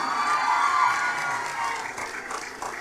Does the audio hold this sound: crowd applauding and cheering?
yes